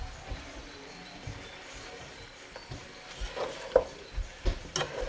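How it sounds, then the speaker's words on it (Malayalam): Spoon scraping and stirring through a biryani masala mixture in a pot, scattered soft clinks and a faint sizzle, growing busier and louder toward the end with no voices. "ഇനി ഇതെല്ലാം കൂടി നല്ലപോലെ ഒന്ന് മിക്സ് ചെയ്തെടുക്കുക."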